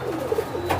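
Pigeons at a loft coo softly up close in a brief, low burbling call over faint background noise.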